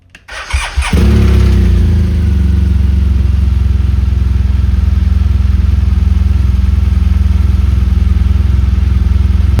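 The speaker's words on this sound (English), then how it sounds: "I will fire up the bike first." A 2016 BMW R1200GS motorcycle fires up after a brief cranking clatter and settles into a steady, loud, close-up idle that runs on without change.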